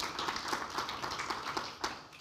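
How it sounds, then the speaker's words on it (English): Small congregation at Sunday worship giving a brief round of light applause, soft, quick claps blending into a short patter that runs steadily throughout, with a slightly louder clap near the end. "We're going to give you a little clap."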